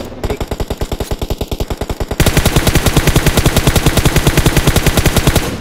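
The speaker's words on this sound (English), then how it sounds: "May gunshots." Rapid, continuous automatic gunfire in a video game, loud and close, rattling in an even fast rhythm that grows slightly louder partway through.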